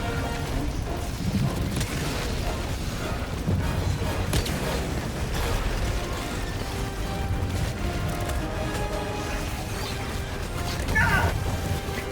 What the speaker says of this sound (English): I will try and hold my position by throwing all my gas grenades